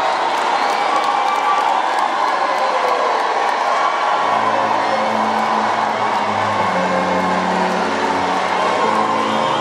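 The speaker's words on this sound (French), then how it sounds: "sous les applaudissements des fidèles au moment de la paix" A congregation applauds and cheers during the sign of peace at a reconciliation gathering in a church, loud continuous crowd noise with a sustained low tone entering midway.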